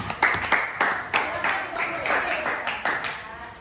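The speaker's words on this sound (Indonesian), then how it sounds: "Oke, tepuk tangan." Students in a classroom clap together in a quick, ragged burst of applause, close and fairly loud, lasting a few seconds.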